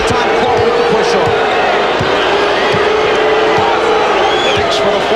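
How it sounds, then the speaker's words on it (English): A loud arena crowd at a 1993 NBA Eastern Conference Finals playoff game between the Bulls and Knicks roars and boos continuously, with basketball bounces thudding beneath and speech mixed in. "John Starks hears the boos from the crowd"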